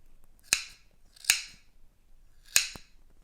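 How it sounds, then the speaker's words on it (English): Three crisp snips of big sharp scissors cutting through yarn while trimming a pom pom into a smooth circle, spaced apart with quiet between, close and clear. "I am going to use my nice big sharp scissors"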